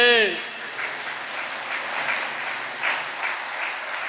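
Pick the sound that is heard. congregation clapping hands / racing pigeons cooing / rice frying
congregation clapping hands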